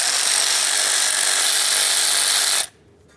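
A 7mm socket on a power driver spins out the ignition coil mounting bolts of a 2006-2010 Ford Explorer, a loud, steady, close whir that runs without a break for several seconds and then stops abruptly.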